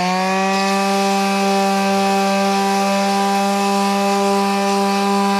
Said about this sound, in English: let's see how the old putty sands